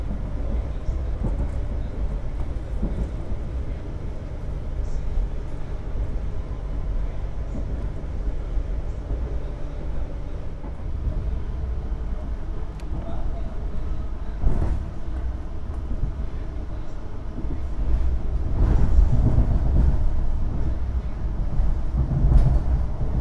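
Inside the Argo Cheribon executive train passing straight through Cirebon Prujakan station, a steady low rumble and rolling rail noise fill the cabin, with occasional clanks and a swell of louder rumble near the end, no talk.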